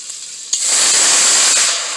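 Two cups of water poured into a hot pot of melted unsalted butter, bursting into a loud sharp sizzle that holds as a bright steady hiss and then slowly eases off.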